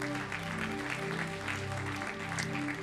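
A church congregation applauding in praise of the cantors, dense steady clapping from many hands filling the room over a sustained organ or keyboard chord, with some voices faintly mixed in.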